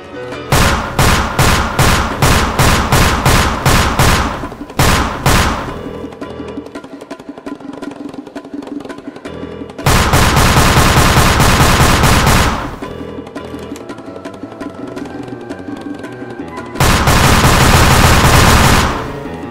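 Rapid automatic gunfire from a LEGO-style Team Fortress 2 Scout weapon, three loud bursts of rapid repeating shots separated by quieter pauses, the first burst clearly stuttering, the later two denser and continuous.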